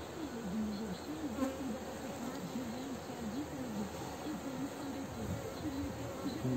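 Honey bees swarming at an open hive, giving a dense, continuous buzzing drone that stays steady and fairly faint throughout with no clear talk.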